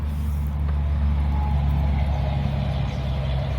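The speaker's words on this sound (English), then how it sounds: "This would be so peaceful if there wasn't so much traffic." Road traffic passing nearby, a steady low drone of car and truck engines rumbling continuously without a break.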